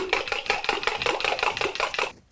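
A beating sound effect from the Blindfold Sound Search game gives about a dozen quick, even strokes in a steady rhythm, like a whisk or spoon striking a bowl, loud and close, then it stops abruptly.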